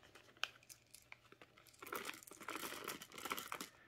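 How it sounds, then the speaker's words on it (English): Board game tokens are slipped back into a plastic bag, with faint crinkles at first, then a denser burst of rustling and crumpling plastic, close and quiet, with no talk. "I'll put them back in their plastic bag."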